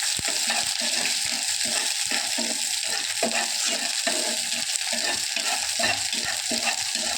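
Small onions and mustard seeds sautéing in a pan, stirred with a rhythmic series of scraping strokes over a continuous close sizzle, no voices.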